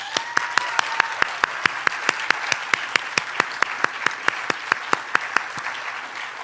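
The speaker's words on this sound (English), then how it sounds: "So let's give our finalists a big round of applause." An audience at a Poetry Out Loud recitation event claps for the finalists, a sustained round of applause with a few sharp nearby claps punctuating the steady crowd patter.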